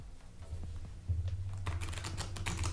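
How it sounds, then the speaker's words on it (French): Two piles of playing cards being riffled together during a card trick, a quick close ripple of flicking cards that swells into a denser burst of rapid clicks. "Et vous allez mélanger les deux tas ensemble."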